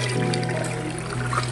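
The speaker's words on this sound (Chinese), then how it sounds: "现在我们再倒水进去洗第二次" Water pours into a bowl to wash vegetarian intestine dough a second time, a steady close trickling and splashing that runs without pause throughout.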